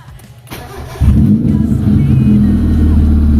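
A low-powered car engine that barely wanted to start cranks briefly, catches about a second in, then runs loud and close with a rough, rising rev.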